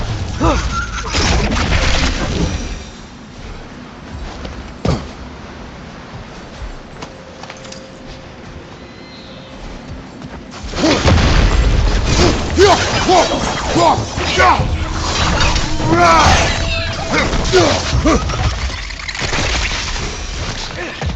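Enemies explode during combat in God of War Ragnarök, with crashing, shattering blasts and heavy impacts mixed with game voices, quieter in the middle stretch and then a dense burst of loud hits and smashes.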